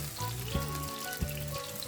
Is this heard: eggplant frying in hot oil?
yes